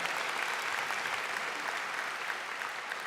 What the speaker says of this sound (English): Let's hear a round of applause for this American Legion Auxiliary milestone